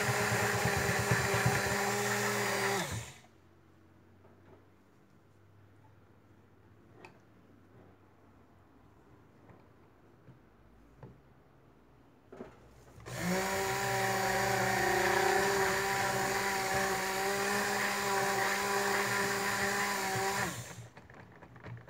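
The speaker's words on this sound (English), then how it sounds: "This blender works a little bit better for bubbles too than my other one" A stick blender mixes pomegranate soap batter in a small container, running in two loud whirring bursts, a short one at the start and a longer one later, separated by a quiet stretch with faint clicks and handling noises.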